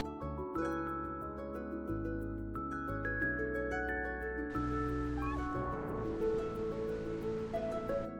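Surf washing onto the beach at Cathedral Cove, a steady wash of waves heard under a loud bed of music that runs throughout.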